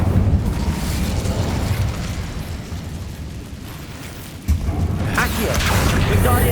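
A roaring burst of fire from the Incendio spell in the game Hogwarts Legacy, a loud sustained whoosh that dips briefly and then surges again with crackling, close and without talk.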